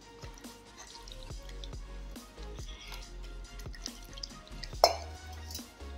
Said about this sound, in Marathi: आता ह्या पिठात असं पाणी वतायचं आणि ही पीठ मिक्स करून घ्यायचं